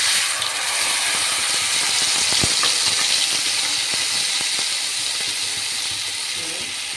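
Spice paste hitting hot oil after cumin seeds produces a loud, steady hiss and sizzle close by, with scattered spatters and light scraping of a utensil, easing slightly toward the end.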